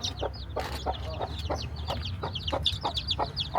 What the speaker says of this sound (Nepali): त्यो खैरो खैरो दिएको चाहिँ वन कुखुराको चल्ला है